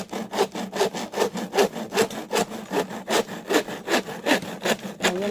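A hand saw rasps rhythmically through wood in quick back-and-forth strokes, each stroke a distinct, close, gritty pulse, about three per second.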